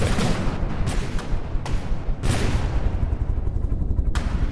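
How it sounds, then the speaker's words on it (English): Anti-missile cannons in the naval game From the Depths fire in a handful of separate sharp booming shots over a constant loud rumbling background, no speech. "That's the first time I've really seen these new anti-missile cannons firing"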